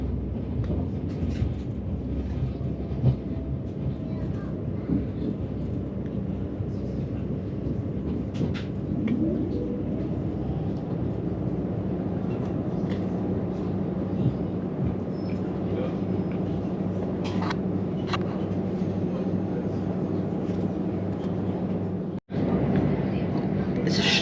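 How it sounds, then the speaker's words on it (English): A Southern train pulls into the main Olympia platforms at Kensington Olympia, London, producing a steady low rumble that fills the whole stretch with little change, while faint bird coos and occasional clicks sit on top. "Now the train comes in on the main Olympia platforms."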